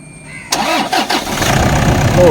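A 2014 Toyota Innova Type 4 engine cranks briefly after a moment of quiet, catches with a few sharp pulses and settles into a steady close idle, with voices nearby.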